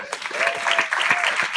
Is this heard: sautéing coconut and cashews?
no